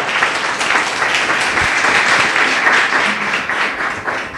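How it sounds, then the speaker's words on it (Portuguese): A church congregation at a pastor's service claps loudly and energetically, a thick, continuous roar of hands that holds steady for several seconds. "Palmas para Ele, bem forte."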